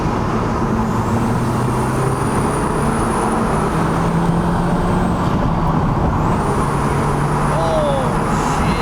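An Audi TT MK1 with a fixed boost problem pulls hard down a road, its engine a steady loud drone under constant road and wind roar from inside the cabin for the whole stretch.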